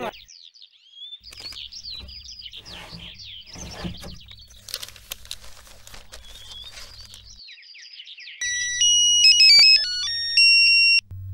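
A phone rings unanswered, heard as a loud, electronic melodic ringtone near the end, preceded by chirpy bird-like synthetic tones and scattered noise, with no clear speech.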